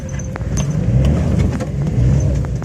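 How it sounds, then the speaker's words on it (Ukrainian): A car drives slowly along rough, potholed Ukrainian village roads, its engine rumbling steadily and loudly up close, with occasional rattles and knocks from the bumpy surface. "Їдемо ми по ось таких дорогах, наші українські дороги по селам"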